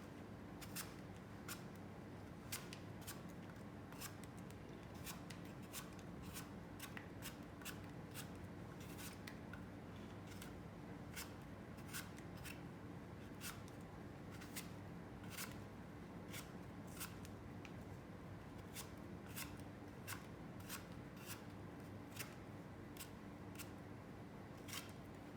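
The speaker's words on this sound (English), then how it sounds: "I want you to peel the apple." An apple being peeled for apple cinnamon samosas, heard as a steady run of small, sharp scraping clicks from the peeler or knife, close and fairly quiet, repeating unevenly over a low room hum with no talking.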